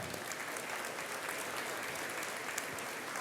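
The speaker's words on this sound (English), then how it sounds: "I think each of you deserves a round of applause for that." Steady applause from an audience at an electric cooperative's annual meeting fills the room, dense and continuous clapping with no talk over it.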